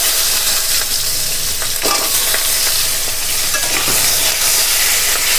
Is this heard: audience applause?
no